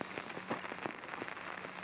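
Steady rain patters on a small, ultralight umbrella on the Appalachian Trail, a dense close hiss of drops with faint irregular taps, no voices.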